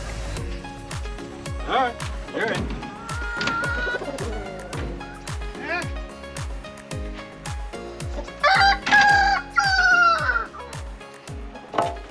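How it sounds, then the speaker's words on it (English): Egg-laying chickens cluck and call close by in a steady series of short bursts inside a chicken house, with a louder flurry of excited squawks near the end. "all the chickens are in here now"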